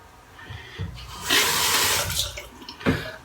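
Tap water runs onto a shaving brush beside a porcelain mug, a close splashing rush that swells in the middle, then tapers into a few drips and a final short splash.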